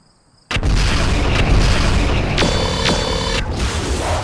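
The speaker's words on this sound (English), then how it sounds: "Long-range missiles blossom into explosions across the Turkina, including a head hit." Long-range missile explosions as a sound effect in a BattleTech Dark Age battle, bursting in loud and close after a brief quiet, then a sustained rumbling roar with a sharper crack midway.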